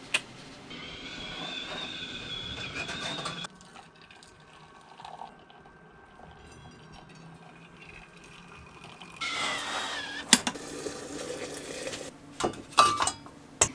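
Dishes being washed inside a converted school bus: running tap water, clinking plates and cutlery, splashing in bursts with a quieter pause between, close and fairly loud.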